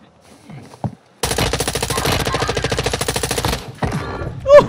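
A long rapid burst of automatic gunfire in Warzone 2, likely an M4, with evenly spaced loud shots rattling for over two seconds, bracketed by quieter game noises and a brief voice.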